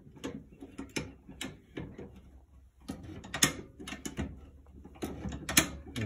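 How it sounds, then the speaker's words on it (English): Single-gear come-along hand cable puller letting its cable down one notch at a time, with a series of sharp, close ratchet-and-pawl clicks spaced irregularly across the clip and a low background hum beneath. "Hear it click. Every time it clicks, it brings it down one notch."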